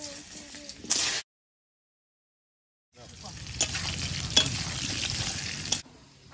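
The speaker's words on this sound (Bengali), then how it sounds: "আলুগুলো ভেজে নেব" Potatoes frying in oil in a home kitchen pan give a steady, close sizzle broken by a short silent gap, with occasional stirring clinks and scrapes over the crackle.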